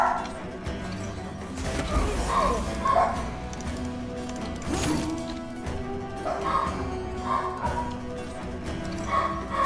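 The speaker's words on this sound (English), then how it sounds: "Dogs are freaking out." Dogs in the video game Band of Poachers bark repeatedly and agitatedly over a constant background din, with loud yaps clustered in bursts across the clip.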